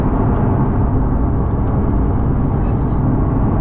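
A 2019 Aston Martin DB11 V8 cruises in sport mode, with a loud, even engine hum and road rumble filling the cabin without pause.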